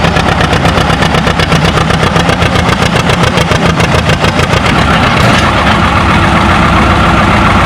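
A John Deere 80 tractor pulls a sled in the 10,000-pound class at a tractor pull, its engine roaring loud and close with a steady rapid exhaust pulse that eases slightly near the end.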